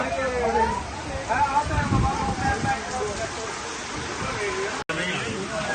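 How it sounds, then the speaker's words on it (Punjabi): Heavy rain roars in a dense, steady wash, with people talking underneath it throughout. "ਹੋਰ ਪਾਸਾ ਤੋਂ ਬਹੁਤ ਮੀਂਹ ਆ"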